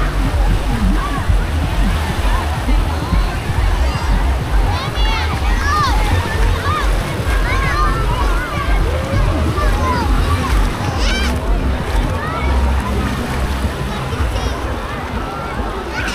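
Waves splash and slosh at crowded Bãi Cháy beach in Hạ Long, Quảng Ninh. Steady water noise sits under a busy hubbub of swimmers, with children's shouts and chatter close by.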